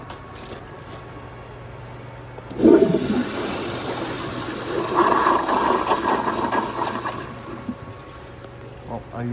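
A 1978 American Standard Glenco wall-hung toilet flushing: a sudden loud rush of water kicks in, swells into a churning flow, then tapers to a trickle and refill hiss over several seconds.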